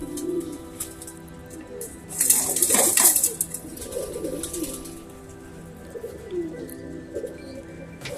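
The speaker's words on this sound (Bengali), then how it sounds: "তো এখন তো কবুতরগুলো ধরা যাচ্ছে না কারণ সন্ধ্যা না হইলে তো কবুতর খোপে যাবে না" Pet pigeons coo softly and repeatedly at close range, with a louder burst of fluttering and rustling midway through, set against steady low background hum.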